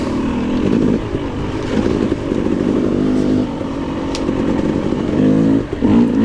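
A KTM 300 two-stroke dirt bike labours up a big muddy hill climb during a Blue Ridge Mountains hare scramble race, its engine droning loud and close throughout, with rising revs and a brief throttle dip near the end.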